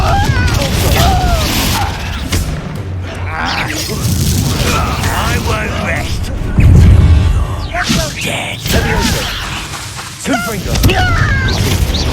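A Confringo blasting spell explodes in Hogwarts Legacy, a sharp low boom rising out of busy combat effects, music and character voices, with crashing and whooshing around it.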